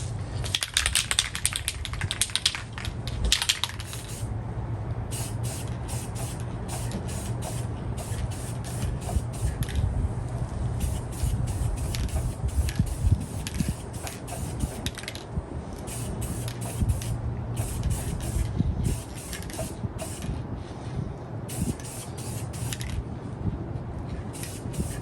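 An aerosol can of Fusion matte red pepper paint is sprayed onto an old All Timer Model 549 drill during a restoration, heard as a steady hiss broken by repeated short bursts and clicks over a low background hum.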